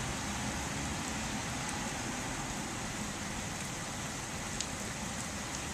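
Steady rain falls outside as a dense, even hiss and patter that holds at a constant moderate level throughout, with a faint low rumble underneath and no voices.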